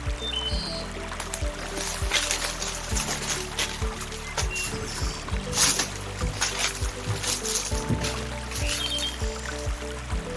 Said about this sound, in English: We've got a bit of water coming through here at the moment,